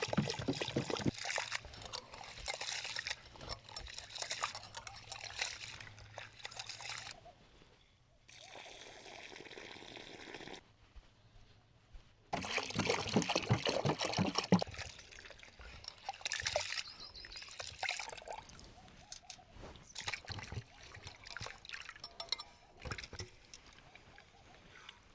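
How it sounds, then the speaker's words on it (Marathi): Dal for papad being washed by hand in water, with swishing, sloshing and splashing that comes and goes across a long stretch, close and fairly quiet, with some speech and a quieter pause midway. "धुवून घेतो डाळ।"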